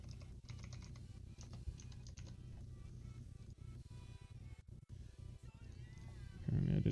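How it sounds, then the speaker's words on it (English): Fast, light keystrokes on a computer keyboard tap along in quick bursts, fairly close, over a low steady hum, with a louder thump at the end. "Typing's hard first thing in the morning"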